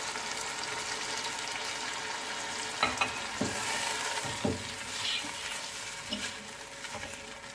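Mutton frying with yogurt and chili paste, a steady close sizzle with a few sharp clinks and scrapes from stirring, no voices.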